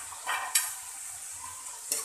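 A spoon stirring Kashmiri red chili powder into chana dal with ridge gourd in a pan, soft scraping strokes over a faint sizzle, with a few louder clinks against the pot.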